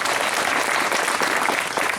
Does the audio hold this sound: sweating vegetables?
no